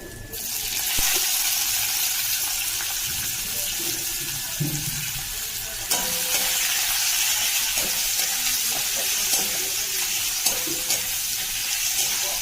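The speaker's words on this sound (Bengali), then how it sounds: "লঙ্কা ফোড়ন, রসুন ফোড়ন, তেজপাতা ফোড়ন দেবো।" Chilli, garlic, bay leaf and five-spice tempering sizzling loudly in hot oil, a dense continuous hiss with a brief stirring disturbance midway.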